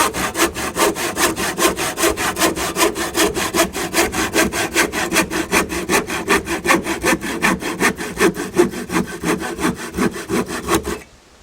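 A hand saw cuts through wood for a roof in quick, even back-and-forth strokes, loud and close, about four strokes per second, continuing steadily until the cut finishes and the sound stops abruptly.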